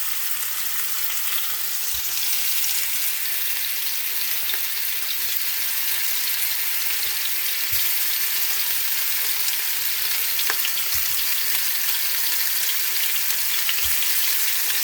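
Porcupine meatballs of ground meat and minute rice brown in a frying pan, giving a loud, continuous sizzle with a few faint clicks and bumps of stirring.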